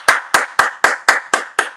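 Hands clapping in a steady, even rhythm, seven sharp claps close and loud with no other sound between them.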